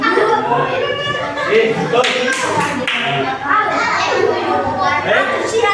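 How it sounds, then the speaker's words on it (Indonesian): A burst of clapping from a group of children in an elementary school coding class, mixed with lively kids' voices and chatter throughout. "tepuk tangan untuk Al dan Rahmat."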